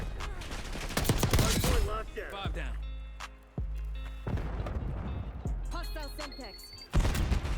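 Feng 82 gunfire in Black Ops 6 comes as a few sharp, separated shots, each a crisp transient, heard beneath someone talking over the game with steady background hum.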